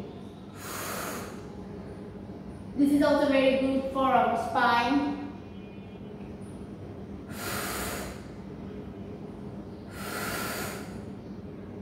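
Slow, deep breaths taken through the nose during a yoga stretch, heard as separate airy exhales and inhales spaced several seconds apart, with a short stretch of speech between them.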